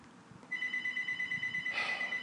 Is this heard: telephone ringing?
yes